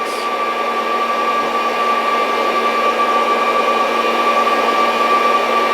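Fresh Roast SR800 home coffee roaster with its fan lowered to setting 6 and heat on high, giving a steady, loud, even whirring rush of fan and motor with a faint tonal hum, no pauses, no talking.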